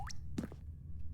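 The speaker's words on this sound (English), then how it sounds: "there's water leaking here" A single water drip lands with a soft plop, followed by fainter splashes from a leak inside The Stanley Parable's maze, heard close and quiet over a low background hum.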